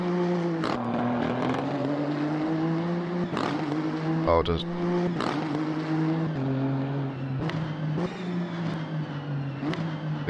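A Nissan GT-R engine in the Automobilista 2 racing game revs hard and steadily, with its pitch dropping sharply at repeated gear shifts, each shift marked by an exhaust crack. A man briefly exclaims over the constant engine drone.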